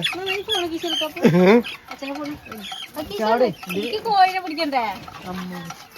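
Domestic chickens, newly brought to a home in Kerala, cluck in short repeated bursts close by, mixed with people talking over them throughout.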